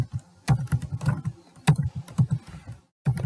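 Keystrokes on a computer keyboard as a command is entered, quick uneven bursts of close clicking with short pauses between runs of keys.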